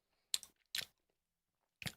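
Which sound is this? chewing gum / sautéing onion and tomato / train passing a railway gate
chewing gum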